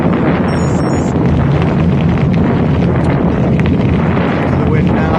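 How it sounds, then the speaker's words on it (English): Strong wind buffets the microphone of a cyclist on a road ride from Lincoln to Castle Donington, a loud, constant low roar and rumble that fills the whole stretch and drowns out everything else. "The wind's picked up as well."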